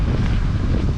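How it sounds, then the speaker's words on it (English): Strong gusts of wind blow across a small dairy farm after a storm, buffeting the microphone with a loud, steady low roar that fills the whole second without any voices. "sorry it's kind of windy. The wind just picked up."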